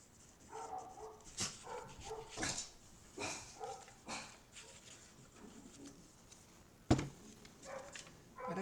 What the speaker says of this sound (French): Désolée si vous entendez mon petit chien, il monte la garde.